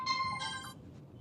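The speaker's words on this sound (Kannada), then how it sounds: "ಅವ್ರದ್ದೇ ಫೋನ್ ಬಂತು." A mobile phone ringtone for an incoming call plays alone, a bright melodic tone repeating over about a second and fading out.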